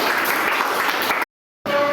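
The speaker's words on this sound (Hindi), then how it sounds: "पहले ज़ोर से ताली अपने लिए" A classroom of students clapping loudly for themselves, a dense burst of hand claps that cuts off abruptly into brief silence before the sound resumes.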